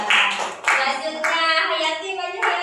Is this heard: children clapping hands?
yes